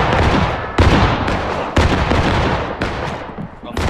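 Repeated loud gunfire bursts from Civil War-era rifles in the War Of Rights game, with heavy overlapping shots and booms in quick succession across the whole stretch, dense battle noise throughout.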